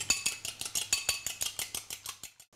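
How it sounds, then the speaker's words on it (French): A fork whisks a cracked egg in a bowl for breading tuna, giving a quick, steady run of bright metallic clinks against the bowl that stops abruptly near the end. "nous allons donc casser un œuf, le fouetter avec une fourchette"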